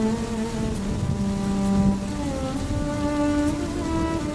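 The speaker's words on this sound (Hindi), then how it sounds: "बारिश बहुत तेज है।" Heavy cartoon rain pours as a steady, even hiss, joined by sustained musical tones playing throughout.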